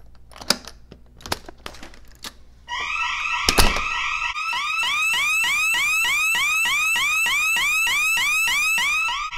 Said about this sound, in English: System is in alarm.